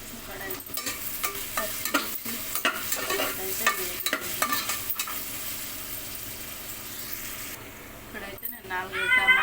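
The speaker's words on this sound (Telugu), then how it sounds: "ఇక్కడైతే ఆయిల్ హీట్ అయిందండి ముందుగా కట్ చేసుకున్న ఉల్లిగడ్డ పచ్చిమిర్చి ముక్కలు అయితే వేసుకున్నాం" Chopped onion and green chilli fry in hot oil with a steady close sizzle, broken by repeated sharp stirring scrapes and clinks, while a voice talks over it.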